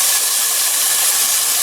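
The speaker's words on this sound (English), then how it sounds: "I'm just going to saute our hominy with the" Drained hominy sautés in a hot pan, producing a loud, even, continuous sizzle and hiss heard up close with no talking.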